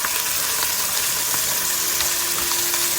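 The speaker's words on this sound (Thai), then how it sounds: "มันก็ย่างเฉยๆเลยไม่ได้ใส่เครื่องอะไรเลย" Korean-style pork, lightly salted and grilled plain on an outdoor summer barbecue in Sweden, sizzles in a dense, steady crackle with fine popping, close and continuous, with no voices.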